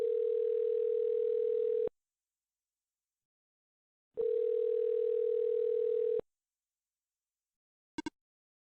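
A telephone ringing tone from the video game OneShot sounds in two long, steady buzzing pulses separated by silence, followed by a brief click, clean and alone with no talk.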